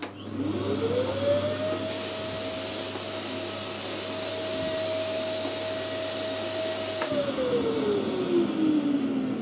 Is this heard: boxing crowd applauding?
no